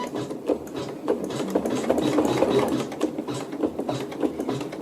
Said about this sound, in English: And then I'll go ahead and let it stitch that match point.